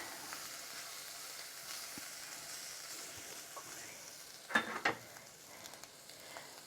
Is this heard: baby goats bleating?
no